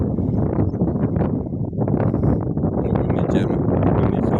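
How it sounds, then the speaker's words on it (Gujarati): Wind blows across an open farm field in India, producing steady rumbling gusts that buffet the microphone while someone talks over it throughout. "પવનનો તો અવાજ તમને આવતો જ હશે, જેમ કે પવન અત્યારમાં પવન છે"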